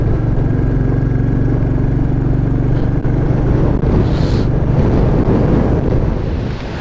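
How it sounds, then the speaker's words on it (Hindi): Strong cold wind blows across a mountain road at the Sonmarg checkpoint on the way to Leh, a loud, continuous rumbling buffet against the microphone with a low engine-like hum beneath that eases near the end. "इतनी जबरदस्त ठंडी हवा चल रही है जैसे कोई वो नहीं है।"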